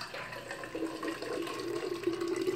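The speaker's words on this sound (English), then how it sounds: "I like to put water in the bottom of it first." Water pours into a plastic shaker bottle before Youngevity Tangy Tangerine 2.0 powder is added, a soft close trickle with a faint steady tone.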